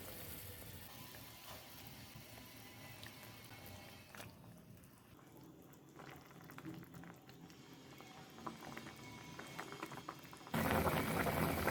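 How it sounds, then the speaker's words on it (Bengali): Fish bhuna gravy with Indian salmon (taillya fish) bubbling and boiling steadily in a pan over a medium flame, a continuous close simmer that grows louder and brighter near the end. "ঝোলটা ফুটতে শুরু করলে সাবধানে মাছগুলো দিয়ে দিচ্ছি।"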